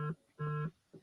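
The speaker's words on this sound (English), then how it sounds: "it's like somebody's phone's going off" A phone goes off during a meeting with a faint electronic ringtone of short tonal bursts, a brief beep, a longer tone, then another brief beep, heard alone.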